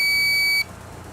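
An electronic timer gives one sustained high-pitched beep that lasts about half a second and then cuts off sharply, leaving quiet room tone.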